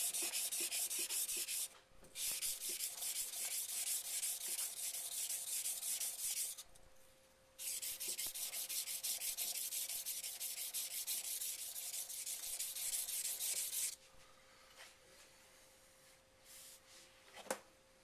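A Takeda knife blade scraping steadily across a sharpening stone in long, loud abrasive strokes, broken by short pauses, then fading to quieter rubbing near the end.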